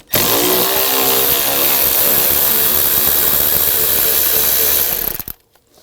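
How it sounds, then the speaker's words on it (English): An impact gun with a 10mm socket spinning a screw out from under the coolant reservoir of a 2007-2013 BMW X5, a loud continuous whirring buzz that runs steadily and then cuts off sharply near the end. "Use a 10mm socket, take this screw out."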